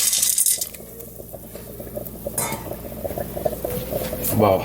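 Washed dry navy beans tumble into a metal pot on a stove, giving a cluster of small hard clatters and rattles up close, followed by lighter settling clicks and a soft kitchen background.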